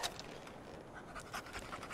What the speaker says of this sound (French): Oh, un clébard. C'est trop bien.